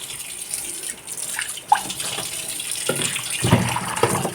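Fish rinsed in salted water with running, splashing water like a tap or basin, steady and close, with a brief clink and a louder gush of water toward the end.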